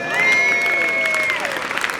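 A live audience applauds and cheers at a podcast taping before a crowd, a broad wash of clapping and voices with a sustained tone over it.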